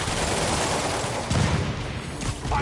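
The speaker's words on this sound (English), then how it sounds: "Control, rooftop outpost under fire from demons." Sustained gunfire crackles at a rooftop outpost under demon attack in Koreatown in Spider-Man Remastered, a dense, continuous barrage of shots with a few heavier bursts partway through.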